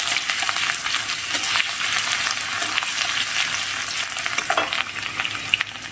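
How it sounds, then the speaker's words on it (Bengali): Garlic paste frying in mustard oil with cardamom, cinnamon, bay leaf and whole spices over a low flame, giving a steady, close hiss of sizzling with occasional stirring scrapes and no talking. "এর মধ্যে রসুন বাটা আমি 2 চামচের মতন দিচ্ছি। দিয়ে একটু ভালো করে কষে নেব।"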